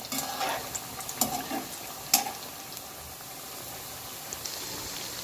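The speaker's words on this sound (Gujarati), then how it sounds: "હવે આપણે આને ધીમી ગેસ પર જ શેકવાનું છે।" Methi mathri roasting in a pan over a low gas flame gives a soft, continuous sizzle, with a few scraping stirs and taps early on, close and fairly quiet.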